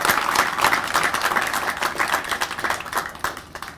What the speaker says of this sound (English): Please give him a great applause.